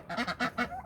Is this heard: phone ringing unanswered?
no